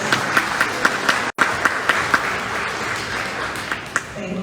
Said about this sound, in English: So if we could just give a round of applause to all the volunteers and performers.